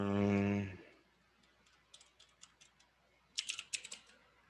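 Typing on a computer keyboard in two short bursts of soft key clicks, the second louder and denser, alone after a brief spoken phrase at the start.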